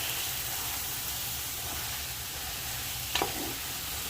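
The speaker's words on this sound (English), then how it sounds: "I'm just going to get this lightly browned. Just mix it up in the pot." Carrots, celery and other vegetables sizzle steadily as they brown in a pot for oxtail soup, a constant frying hiss with one brief scrape of stirring near the end.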